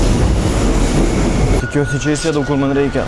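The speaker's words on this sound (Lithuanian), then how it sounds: "Nekenčiu Barsas metro." A Barcelona metro train rumbles loudly inside a carriage, its roar dropping to a lower whine as it slows, while a person talks over the noise.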